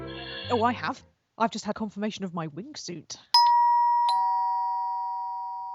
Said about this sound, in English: In fact, that's the doorbell.